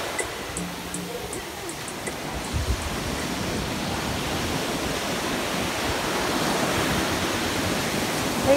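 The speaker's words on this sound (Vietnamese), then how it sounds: "Thấy sóng biển ăn dập dào không?" Sea waves wash onto the beach at Nha Trang as a steady broadband surf rush that swells slightly toward the end, with a few faint high tones near the start and no clear voices.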